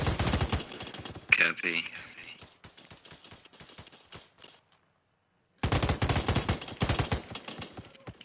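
Enemy gunfire in the military shooter Arma Reforger: rapid bursts of sharp automatic shots crackle in quick succession, go briefly silent, then resume in another hard, close volley, with a voice speaking over the firing.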